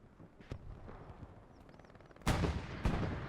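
Gunfire in the WWII shooter Hell Let Loose on the Tobruk map during a competitive playoff match: scattered faint distant shots, then two loud close bursts near the end over a rumbling battlefield backdrop.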